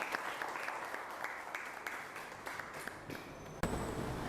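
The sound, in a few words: applause for a student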